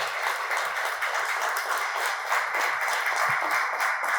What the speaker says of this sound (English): I want a big round of applause for her